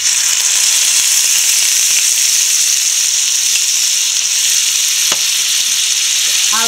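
Curry leaves and ground coconut paste hit hot oil for a Kerala-style coconut chutney, making a steady, loud, close sizzle with crackling that continues without a break.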